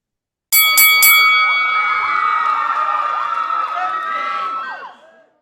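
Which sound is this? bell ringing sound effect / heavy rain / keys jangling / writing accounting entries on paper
bell ringing sound effect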